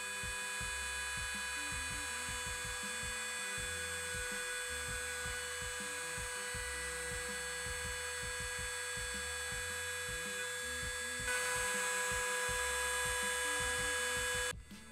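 A Shapeoko 2 CNC router cuts coasters with an end mill, giving a steady high-pitched spindle whine with dense, rhythmic cutting chatter underneath, close and continuous with no talk.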